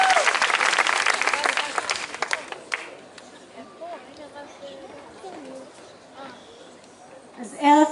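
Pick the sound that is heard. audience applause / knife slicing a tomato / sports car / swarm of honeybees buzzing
audience applause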